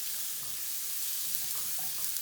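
Butter sizzling in a pan over medium heat, a dense continuous hiss with fine crackles, close and steady throughout.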